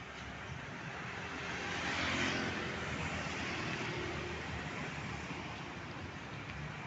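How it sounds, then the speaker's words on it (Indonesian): Light rain falls over steady street traffic in Banda Aceh, a broad constant hiss with passing vehicles swelling slightly in the middle, with no voices. "Ini sedikit hujan ya"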